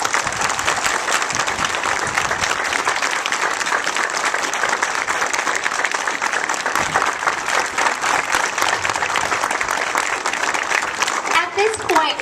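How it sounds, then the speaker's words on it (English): An elementary school audience applauds veterans at an honoring ceremony, steady dense clapping that carries on loudly for the whole stretch, with voices mixed into the crowd. "Let's all give our veterans a round of applause."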